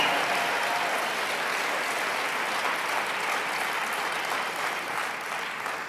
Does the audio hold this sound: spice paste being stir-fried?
no